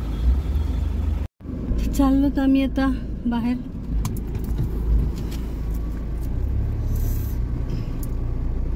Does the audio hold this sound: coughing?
no